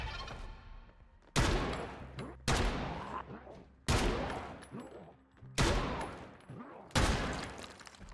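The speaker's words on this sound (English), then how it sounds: "I'd never shot this gun before." Five loud, evenly spaced gunshots in an I Am Legend outbreak video game, each followed by a long echoing decay, ringing out one after another inside a house.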